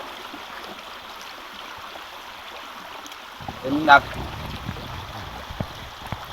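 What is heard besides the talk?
flowing stream water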